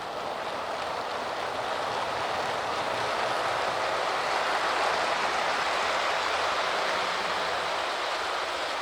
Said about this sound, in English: I'm going to bring that train around